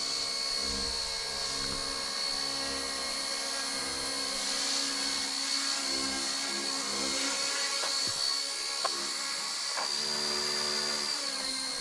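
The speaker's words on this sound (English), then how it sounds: "The K170 with the brushless motor." K170 brushless RC helicopter in flight outdoors in wind, a steady high-pitched motor whine with rotor buzz that rises and falls slightly, continuous and fairly close throughout.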